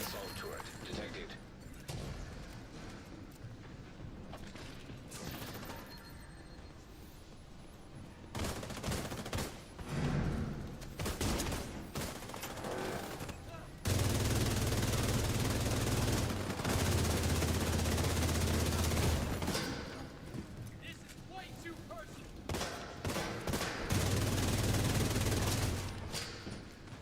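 Hostile sniper and assault turrets fire in The Division 2, giving bursts and volleys of gunfire that come and go under a game announcer's voice and other speech, with louder sustained stretches in the second half.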